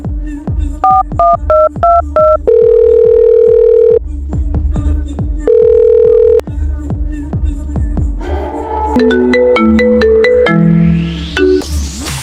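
Keypad tones beep rapidly, followed by two long ringback tones and then a looping electronic ringtone melody, loud and close, with no one answering.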